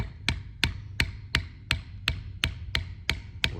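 A mallet strikes a leather bevel tool in a steady run of about ten sharp, evenly spaced taps, each a crisp close knock with a quick decay, heard alone without talk.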